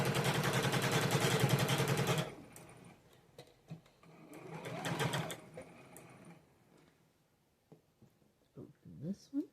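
A sewing machine runs steadily for about two seconds while stitching a quarter-inch seam on a beginner pinwheel nine-patch quilt block. It is loud and close, then stops, and soft handling noises and speech follow.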